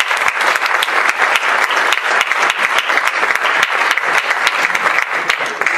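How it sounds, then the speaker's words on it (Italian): Theatre audience applauding at a comedy stage show, a dense sustained wash of many hands clapping with sharp individual claps standing out, loud and steady throughout without pause. "la platea ha fatto l'applauso"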